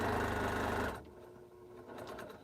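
A home sewing machine stitches pieces in a continuous chain, running loud and steady for just under a second before stopping, followed by quieter handling noises and faint clicks.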